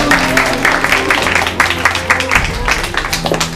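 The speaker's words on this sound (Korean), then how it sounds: "박수!" Studio audience applauding at a televised celebration gala, a dense, steady patter of clapping that runs through the whole stretch alongside a musical backing.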